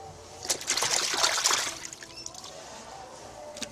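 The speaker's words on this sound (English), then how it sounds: "All done, rinse him off." Running water splashing over a flathead fish fillet as it is rinsed, a close trickling burst that fades after about two seconds into quieter dribbling.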